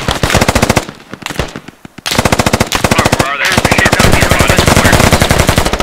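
Rapid machine-gun bursts in a tactical multiplayer squad video game, loud and close, with a short pause and a gap before sustained automatic fire resumes; faint speech sits under the shooting.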